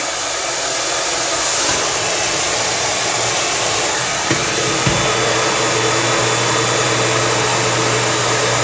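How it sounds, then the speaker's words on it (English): A handheld hair dryer fitted with a concentrator nozzle blows hair dry with a loud, steady, close roar that holds for the whole stretch, broken only by a couple of faint clicks. "I'm getting through this blow dry relatively quickly."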